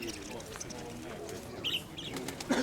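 Koshua breed pigeons at a Pavlograd market flap their wings and coo, with brief fluttering bursts and soft calls rising over a busy background of market murmur and nearby voices.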